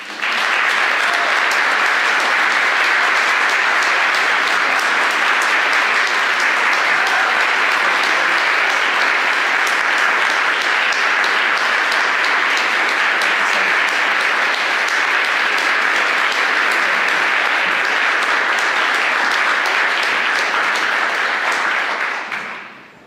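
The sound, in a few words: audience applause, standing ovation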